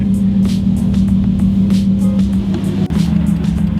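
Steady engine drone from inside a Subaru STI being driven, a constant low hum with light rattles and road noise, loud and close throughout, with no talking.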